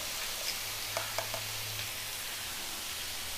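Cabbage thoran sizzling and frying in a pan as it is stirred with curry leaves, salt and turmeric, a steady close hiss with a few soft scraping clicks of stirring.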